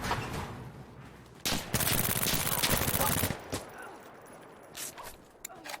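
Automatic gunfire in a video game, a dense burst of rapid shots lasting about two seconds, followed by scattered clicks and thuds.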